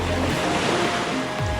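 Ocean waves wash continuously onto a beach in Malaysia, a loud, steady surf roar with wind buffeting the microphone and no voices.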